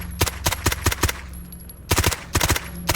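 Rapid bursts of gunfire from a .45-calibre weapon in Stalker Gamma: two clusters of sharp, loud, evenly spaced shots separated by a brief pause, with no talk.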